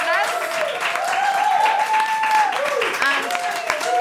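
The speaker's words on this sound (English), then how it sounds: "can I have a huge round of applause for Martinez?" A small studio audience in West London claps in a steady round of applause while voices and cheering carry over it throughout.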